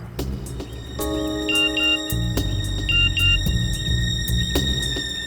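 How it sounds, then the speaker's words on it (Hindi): A phone rings with a repeating electronic tone, heard amid a tense musical score and sharp hits, with no talking. "फोन बजा।"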